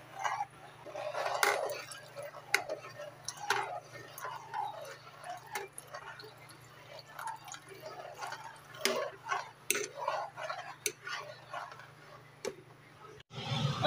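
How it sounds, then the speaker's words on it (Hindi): A metal spoon clinks and scrapes steadily against a bowl while stirring a custard milk mixture for bread rasmalai, with soft irregular taps over a low hum, fairly faint and close. "थोड़ा थोड़ा करके डालेंगे और 7 से 8 चम्मच हिलाते जाना है।"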